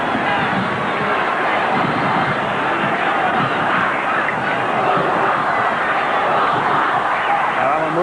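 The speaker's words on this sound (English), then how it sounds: "The crowd getting behind the Canterbury-Bankstown side, urging them on" A rugby league stadium crowd roaring in support of Canterbury-Bankstown against Cronulla, a broad continuous wash of cheering and voices, loud and distant-sounding throughout.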